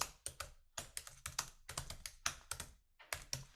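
Rapid, irregular keystrokes on a computer keyboard during a math lecture, close and crisp, with short pauses between bursts and no voices over them.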